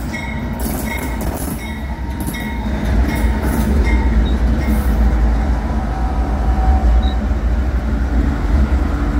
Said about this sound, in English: Oh, they picked up a locomotive.